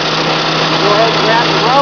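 A WWII Braden capstan winch engine idles loudly and steadily up close, with a constant low hum and faint higher whines rising near the end.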